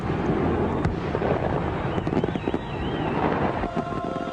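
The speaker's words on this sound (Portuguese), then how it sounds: "Fogos de artifício." Fireworks bursting in a continuous crackling barrage outdoors, with scattered pops and booms over a blustery wind rumble on the microphone.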